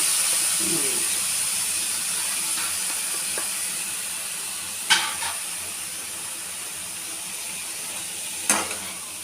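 Boiled carrots sauté in a pan with chilli powder, giving a soft continuous hiss and two sharp scrapes of a utensil against the pan.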